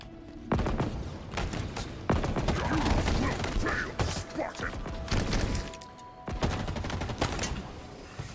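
Bursts of rapid gunfire from Halo Infinite weapons, loud and close, coming in repeated volleys with short breaks and booming hits between them.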